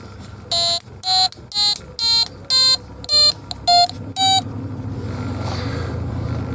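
A homemade electronic organ built on a 555 timer circuit, slightly out of tune, plays eight short, loud buzzy tones at varying pitches in a quick even rhythm, then falls silent over low background noise.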